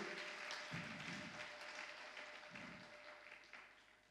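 A church congregation claps and cheers in praise of God during a sermon, a faint, continuous wash of applause with no clear speech.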